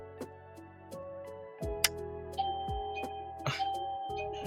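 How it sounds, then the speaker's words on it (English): A doorbell chimes indoors, a couple of clear ding-dong tones ringing out among faint ticks and clicks, fairly quiet in a room. "And typical, the doorbell rings,"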